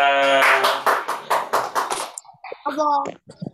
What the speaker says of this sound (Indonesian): tepuk tangan Mbak Siva